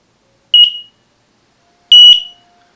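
An X-Sense connected smoke alarm gives two loud, piercing electronic beeps during a pairing test, a short chirp followed about a second later by a longer, harsher tone, with silence around them.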